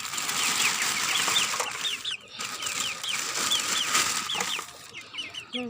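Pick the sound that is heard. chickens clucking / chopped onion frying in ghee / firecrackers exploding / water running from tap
chickens clucking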